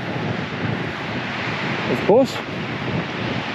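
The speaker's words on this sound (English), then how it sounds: "She's windy." Strong wind at a beach in Lincoln National Park, South Australia, a broad steady rush blowing across the microphone throughout, with brief talk near the middle.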